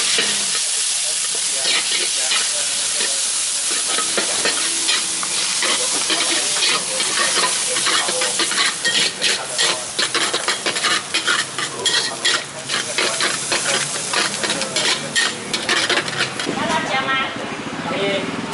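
Char kway teow, Malaysian-style soy sauce noodles, stir-fried in a hot wok, with continuous sizzling, scraping and clanking of a spatula against metal, and voices talking in the background.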